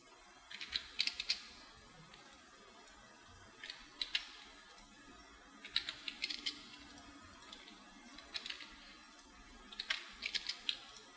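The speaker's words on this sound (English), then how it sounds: "You can type them in, or you can go and click on each one and paste in" Someone types on a computer keyboard in quiet bursts of light clicking keystrokes, separated by short pauses, with a soft background hum and no talking.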